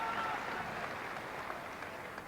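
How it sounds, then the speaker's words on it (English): Faint, distant crowd applause at a 1996 football match between Portadown and Manchester United, a steady soft patter of clapping across the stands, with a little background voice mixed in. "But some applause there for that effort from Stephen Livingston."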